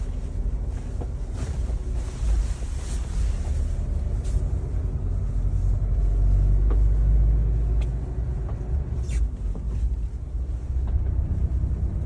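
A car on road tyres drives off-road at a Galloway country fair, a low rumbling engine and tyre drone with wind buffeting the microphone, rising in strength midway before easing off.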